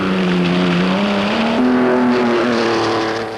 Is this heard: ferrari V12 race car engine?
yes